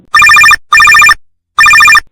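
A mobile phone rings with an incoming call in a Tamil short film, sounding three loud, close bursts of trilling ringtone separated by short pauses.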